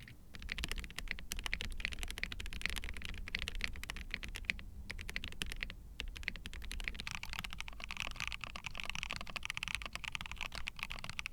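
Rapid, continuous typing on a keyboard fitted with Invokeys Black Sesame linear switches in updated housings, a soft, muted, low-pitched clatter of dense keystrokes heard close up and alone.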